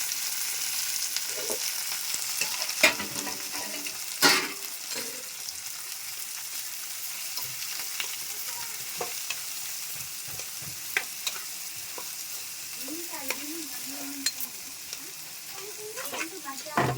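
Dried fish and onions stir-frying in a pan for a curry with tamarind leaves: a steady soft sizzle runs throughout, with scattered clinks and stirring knocks of a utensil against the pan, fairly close.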